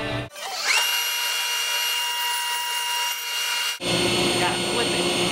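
Power saw cutting the corners off a wooden block for a Wing Chun dummy part, a loud high whining cut lasting about three seconds, then rougher grinding noise as the blade bites again.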